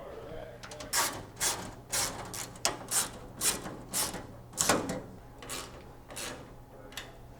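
A ratchet cranks down the bolts of a 15-inch strutless adjustable wing on a 1994-98 SN95 Mustang, its clicking coming in a dozen or so quick, evenly spaced bursts at close range over a faint low hum.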